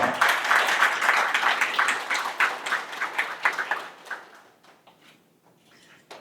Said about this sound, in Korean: 모두 큰 박수 부탁드리겠습니다.